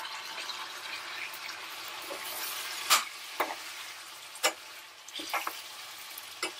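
Tomatoes fry in a pan for an ivy gourd masala curry, a soft steady sizzle with a handful of sharp spatula scrapes and clinks spaced across it, close-up, no voices.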